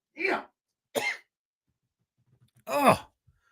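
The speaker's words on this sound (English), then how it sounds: "here comes another cough." Three separate coughs from a man in a basketball podcast, the first two short and close together, then a louder, longer cough after a pause, close to the mic with no talk around them.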